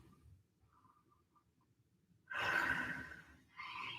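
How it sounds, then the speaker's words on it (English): A person stretching during a recovery workout breathes out audibly, a soft airy exhale followed by a shorter second breath, fairly close and quiet against a near-silent background. "Breathe in and out."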